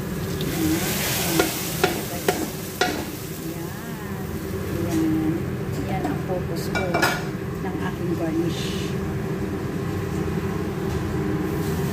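Browned garnish poured into a pot of arroz caldo gives a constant close sizzle and frying hiss, with a few light clinks of pot and utensil near the start.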